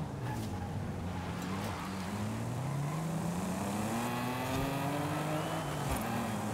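A BMW M5 engine in Forza Horizon 5 drones steadily during a B-class race, its pitch climbing slowly as the car accelerates and dipping briefly near the end, with a constant, fairly loud roar.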